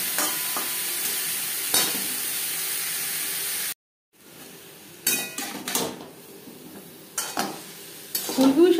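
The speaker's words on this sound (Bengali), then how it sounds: "ফুলকপির সাথে আলু 3-4 মিনিট নাড়াচাড়া করে নেওয়ার পর" Potatoes and cauliflower stirred and fried in a pan, heard as a steady sizzle, then a brief gap, then close, uneven scraping and clanking of a spoon against the pan, without speech.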